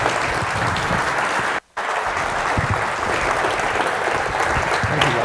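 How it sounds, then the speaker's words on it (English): Steady, full applause from a forum audience for panelists, continuous clapping throughout with a brief cut in the middle. "let's give the panelists another round of applause"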